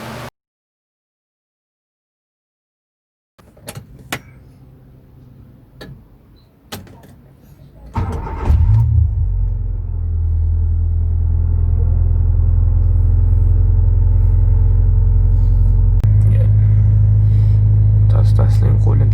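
A 1999 Honda Civic VTi engine idling high and stuck after warming up, starting with clicks and door sounds, then a loud steady low rumble that holds constant and rises slightly near the end, close by.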